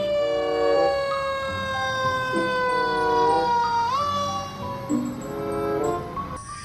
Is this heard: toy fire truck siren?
yes